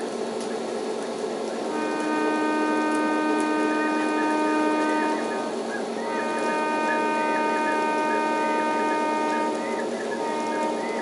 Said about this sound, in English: And I can hit the horn.